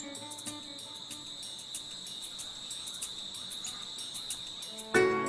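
Jungle insects sing as a shrill, sustained high drone broken by rapid pulsing chirps, steady at moderate distance, followed by a sudden louder rustle at the end and no talking.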